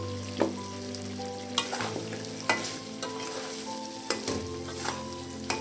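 Chopped onions dropped into beef frying in a pan for a stir-fried beef curry, a steady sizzle broken by repeated scraping stirs of a spoon against the pan, close and without talk.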